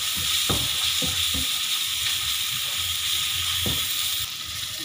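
Turmeric and ginger-garlic paste sautéing in a pan for a chicken heart fry, giving a steady broadband sizzle broken by a few soft scraping stirs, fairly close and with no talk.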